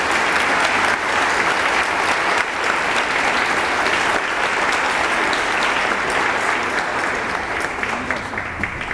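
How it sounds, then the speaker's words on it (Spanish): Sustained, dense applause from an audience at a historical studies institute's award ceremony in Mexico, steady and loud throughout before tapering slightly near the end. "Les pido un aplauso"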